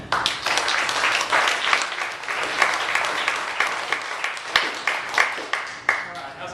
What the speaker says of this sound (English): So we have a nice round of applause for Brad Lynn.